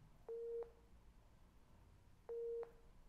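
Two identical electronic beeps from a ground-scanning imaging app, each a steady tone of about a third of a second, spaced two seconds apart over a low background hiss.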